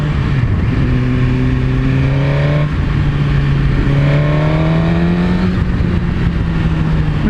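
A Suzuki GSX-R1000 superbike fitted with a Yoshimura exhaust pulls hard through the gears, loud and close, its rising engine note climbing twice with a brief dip at the shift between.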